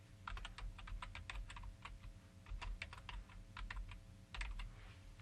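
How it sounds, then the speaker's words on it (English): Keystrokes on a computer keyboard tap out in quick irregular clusters with short pauses, close and fairly quiet over a low background hum, with no speech. "And I'll just type that again"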